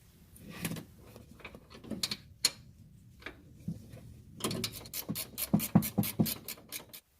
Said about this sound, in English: Next, remove this 13mm fastener holding down these lines.